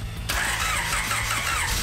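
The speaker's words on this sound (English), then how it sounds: "That was a backfire out of the intake." A 1992 Honda Prelude engine cranking, then catching with a sudden loud roar and popping backfire out of the intake, close up and harsh for a couple of seconds.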